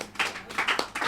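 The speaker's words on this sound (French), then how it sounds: "On peut quand même applaudir les femmes." A few scattered hand claps from an audience applauding the women at a community solidarity gathering, sparse and fairly quiet, with no one talking.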